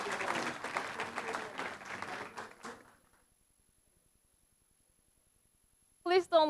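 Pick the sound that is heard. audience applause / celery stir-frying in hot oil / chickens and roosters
audience applause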